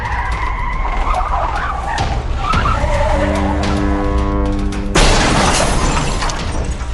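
A car skids with a long tire screech, then smashes into something with a loud crash and shattering glass, staged as a loud sound effect with no talk.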